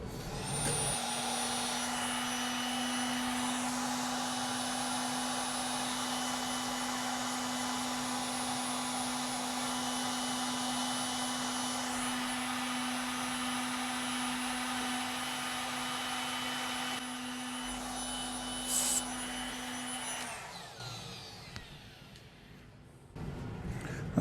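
A small multi-flute thread mill cutting a 3mm thread on a manual lathe, a steady loud whirring drone with a constant high whine that runs unbroken for about twenty seconds before cutting off.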